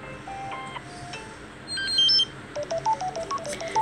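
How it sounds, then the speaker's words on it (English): Edited ringtones on a Samsung Galaxy S7 phone play back to back: short electronic melodic tones, then a rapid series of evenly spaced beeping notes, fairly loud and alone. "These are not original ringtones."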